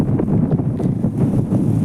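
Strong wind buffets the microphone in low rumbling gusts over a farm field in Gujarat's Ghed region, with light rain falling, rising and falling continuously with no talking.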